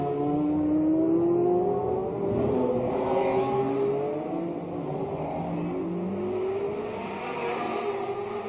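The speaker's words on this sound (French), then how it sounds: "Vous voyez que les voitures dérapent, elles font très attention." Formula 1 race cars at the 1967 Monaco Grand Prix roar past with rising and falling engine whine, several overlapping revving notes sweeping through, heard from trackside at a steady loud level.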